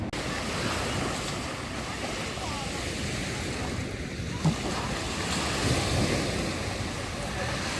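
Night surf of the Black Sea washing onto the shore at Langeron beach in Odesa, a steady continuous wash of waves with wind noise over the microphone and no clear voices.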